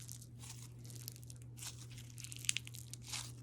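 Crunchy slime being squeezed and picked apart as hard chunks are pulled out, giving close, quiet bursts of crackling and crinkling over a low steady hum.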